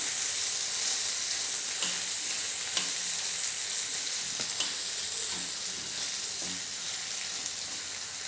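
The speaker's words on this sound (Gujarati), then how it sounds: "આવી રીતે ગ્રેવીમાં મિક્સ કરી દેવાના" Mixed vegetables are tossed into gravy on a hot tawa for a tawa veg fry, giving a continuous close sizzle with scattered scraping and clinking of a spatula against the griddle.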